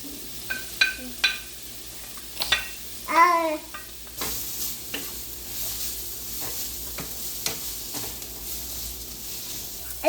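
Beans and carrots fry over medium heat in a pan for fried noodles, with a soft hiss under repeated scraping stirs. A brief voice-like burst comes early, then the sizzle settles into a steady, moderately quiet background.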